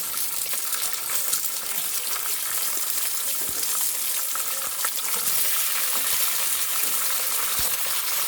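Green chillies frying in oil in a pan, a continuous bright sizzle with occasional clinks of a utensil, steady and close, with no talk.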